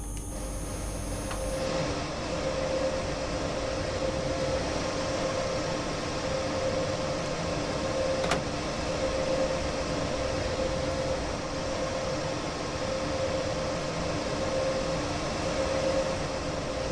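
A locomotive in the Train Sim World 2 simulator runs with a constant droning rumble and a steady tonal hum, heard as if from the cab, unchanging throughout with no speech.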